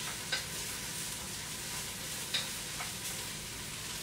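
Green bell peppers and celery sizzle steadily in a hot pot for white chicken chili, with a couple of sharp scraping clinks from a spoon stirring against the pot over the continuous frying hiss.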